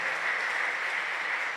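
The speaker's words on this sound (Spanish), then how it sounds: "Démosle palmas fuertes a nuestro Señor." A church congregation at a pastors' retreat applauds loudly in a short, dense, even burst of many hands clapping together.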